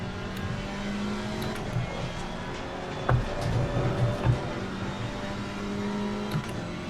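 An Alpine GT4 race car in Assetto Corsa Competizione drones steadily through corners, its engine note rising and falling with shifts and throttle, continuous at moderate volume with no talking.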